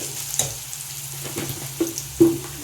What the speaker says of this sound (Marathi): त्यात मी 1 टीस्पून लसणाची पेस्ट घालणार आहे आणि त्यात थोडं आपल्याला मीठ घालायचं आहे आणि छान असं व्यवस्थित परतून घ्यायचं आहे।